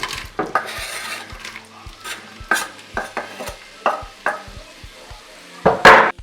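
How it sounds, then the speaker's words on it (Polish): Diced onion goes into heated oil for a quick Chinese-style soup, with repeated close clinks and scrapes of a utensil against the pan over a soft sizzle, and a louder burst of sizzling at the end. "Dobra, olej się nagrzał. Rzucamy cebulę."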